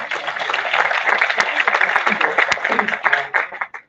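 An audience at a finance conference clapping for an introduced guest, a dense, sustained wash of applause lasting several seconds at fairly high volume before it tapers off.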